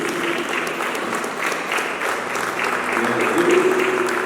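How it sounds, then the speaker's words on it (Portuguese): A church congregation at a Sunday service claps steadily and loudly throughout, a dense continuous round of applause with a murmur of voices underneath. "Uma salva de palmas."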